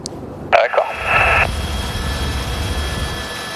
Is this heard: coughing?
no